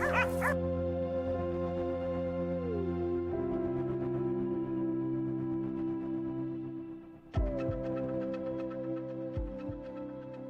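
Hunting dogs bark and yip excitedly while surrounding a large wild boar in the forest, a repeated and overlapping chorus at moderate distance, with whimpers mixed in and no speech.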